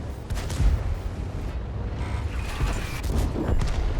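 A TS-54 double-barrel tank gun fires in World of Tanks, with heavy booming blasts over a constant low rumble of battle noise and engine drone.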